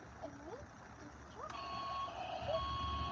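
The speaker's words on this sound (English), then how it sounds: "Yeah, there's a truck." A reversing truck beeps with steady electronic tones, moderately distant, over continuous low background noise with a few faint chirps.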